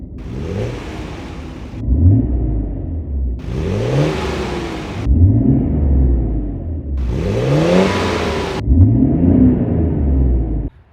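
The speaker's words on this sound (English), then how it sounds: "I'm gonna put the phone in here so that people can hear what I hear, because it just sounds like a vacuum cleaner from inside." Nissan R32 Skyline GTR with a straight-piped Tomei Expreme Ti titanium exhaust, heard from inside the cabin, revving in repeated surges with a whooshing turbo rush and rising whine, each pull followed by a lower, idling rumble.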